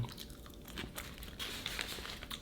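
Close, fairly quiet crunchy bites and chewing on a large crispy fried-patty bulgogi burger with spicy garlic dipping sauce, a few crackling bites over about two seconds, no talking.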